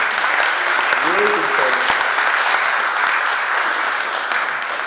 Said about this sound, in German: Gebt ihm mal einen Applaus.